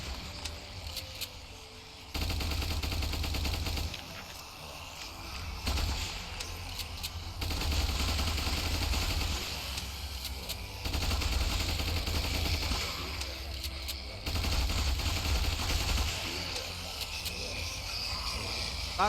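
Blaster pistol fire rings out in Ultimate Epic Battle Simulator, a loud, continuous battle of rapid shots layered over a dense roar that swells in several bursts, with no talking.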